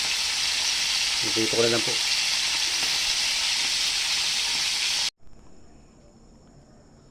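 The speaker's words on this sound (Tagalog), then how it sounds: "ito pa ang ating nilutong pritong alimango" Small crabs frying in hot oil make a loud, steady sizzle and hiss close by, while someone speaks briefly partway through, before the frying sound cuts off abruptly and near-silence follows.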